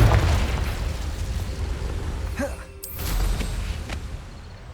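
A Confringo blasting spell goes off in Hogwarts Legacy with a booming explosive burst followed by a rumbling swell, loud and close over ongoing game ambience, with a brief voice cast beforehand.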